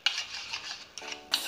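A spoon stirs Milma yogurt and oil into a butter chicken marinade in a bowl, a few quick, close scraping and clinking strokes against the bowl in a short burst.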